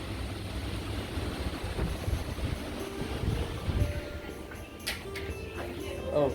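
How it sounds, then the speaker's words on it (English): Strong storm wind roars steadily outdoors during a tornado-warning storm, buffeting the microphone with low rumbling gusts that swell and ease, with faint rattling near the end. "Yeah, it's really windy."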